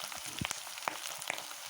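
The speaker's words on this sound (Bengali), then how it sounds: "এই দেখো লাল লাল করে ভাজি করে নিচ্ছি" Potatoes fry in a pan with a soft, steady sizzle, marked by a few sharp pops and spits scattered through the short stretch, with no talking.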